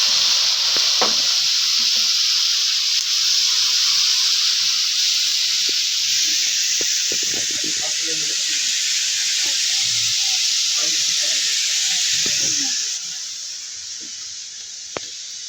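Cabbage fries in a pan in a rooftop kitchen, a loud steady sizzling hiss with occasional stirring clinks and scrapes, easing quieter near the end.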